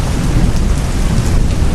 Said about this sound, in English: The only sound was the rain, still pouring down